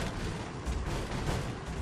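Shotgun blasts in Resident Evil 4 Remastered sound as muffled, booming reports over a rumbling game background, with a couple of heavier thumps a little over half a second apart, fairly quiet overall.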